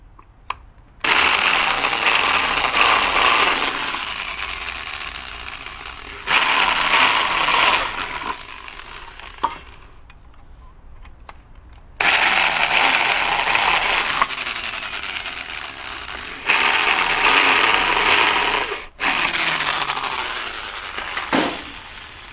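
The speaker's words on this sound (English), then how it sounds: "let's drill them out." Drilling out a metal block held in place while fabricating Lamborghini Countach door parts: four long, loud whining drill runs, each a few seconds long, separated by short quiet gaps, with no talk.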